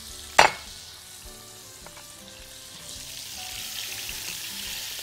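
Salmon fillets laid into a pan over lemon, salt, pepper and oil, opening with a sharp clack, then a quiet sizzle that grows steadily louder as the fish fries.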